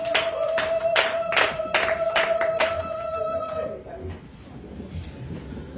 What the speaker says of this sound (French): applaudissements pour le Seigneur